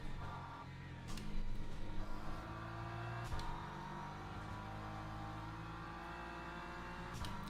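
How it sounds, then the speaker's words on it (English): A Ferrari race car engine in Le Mans Ultimate drones steadily, its pitch rising and falling with the revs, and brief sharp clicks or shifts mark a few points, heard from the cockpit without talk. "This Ferrari is dangerous."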